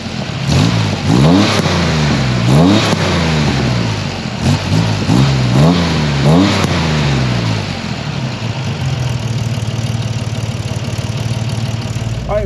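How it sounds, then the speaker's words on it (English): A Chevrolet Corvair fitted with a new custom exhaust and muffler revs up loudly several times in quick bursts, each rising and falling sharply, then drops to a steady, rumbling idle near the end. "So let's try this muffler out and see how well it works."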